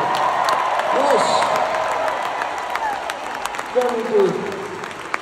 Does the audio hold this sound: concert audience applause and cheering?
yes